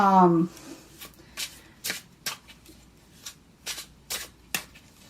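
A new 8th House Tarot deck shuffled in a series of crisp riffling bursts at an uneven rhythm, close up, after a brief voice at the very start.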